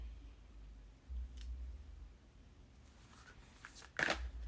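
Tarot cards are shuffled with soft riffling and sliding, quiet and close against a low hum. No one speaks.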